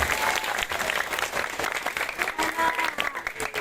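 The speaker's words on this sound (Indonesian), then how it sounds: "Tepuk tangan untuk kumpulan pedagang." Audience applause at a Sundanese religious sermon, a steady dense wash of many hands clapping throughout with some crowd noise mixed in.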